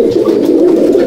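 Pigeons in a Punjab-breed pigeon loft coo steadily and close by, a continuous low throaty murmur from several birds with no talk.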